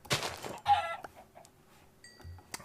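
A few soft Minecraft chicken clucks and squawks come in short separate bursts, fairly quiet, with light clicking sounds between them.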